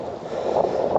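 Wind buffets the microphone on a Lake District mountain summit near Great Gable, a brief steady rushing roar with low gusty rumble.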